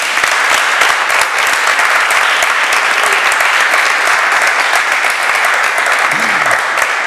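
Steady, dense applause from a studio audience at a French television quiz show fills the whole stretch, loud and continuous with no break.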